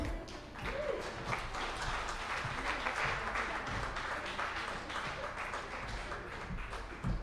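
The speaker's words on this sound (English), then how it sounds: "Y'all can keep that applause going." An audience at a Brain Injury Association of North Carolina 40th anniversary celebration keeps up sustained applause, a dense wash of many hands clapping at moderate distance with no break.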